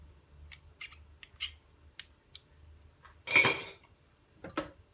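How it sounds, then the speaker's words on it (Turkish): A spoon works through tiramisu mixture in a bowl, giving faint scattered clinks and scrapes, then one louder clattering scrape near the end. "İyice karıştırıyorum"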